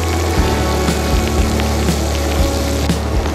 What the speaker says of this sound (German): jetzt geht's los, die wilde Fahrt durch den Regen